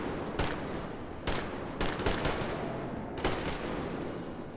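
Gunfire in the Metro Exodus video game: loud bursts of shots at a steady close range, with four main volleys and heavy echo filling the gaps between them.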